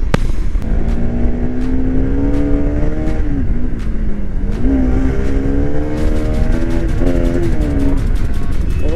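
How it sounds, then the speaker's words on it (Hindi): Bajaj Pulsar RS200 motorcycle engine droning loud and steady during a fast ride, its pitch rising and falling with throttle changes over strong wind rush, with no one talking. "भाई कहां कहां से निकल रही है आज अपनी बाइक।"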